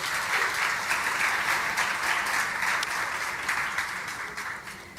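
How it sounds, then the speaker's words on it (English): Conference audience applause at an office event, a dense, loud burst of clapping that stays steady and then begins to thin and fade toward the end, with no talk over it. "can we have a round of applause for them, please?"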